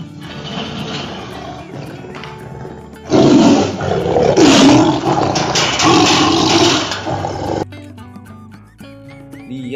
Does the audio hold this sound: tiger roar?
yes